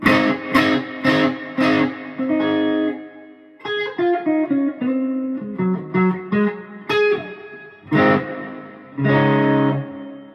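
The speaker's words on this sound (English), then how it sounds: "I'll turn the amp reverb up." Electric guitar played through an amplifier's built-in reverb, sounding loud and close with strummed chords and single-note phrases that ring out and trail into a washy tail between pauses.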